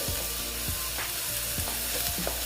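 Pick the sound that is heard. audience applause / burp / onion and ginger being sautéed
onion and ginger being sautéed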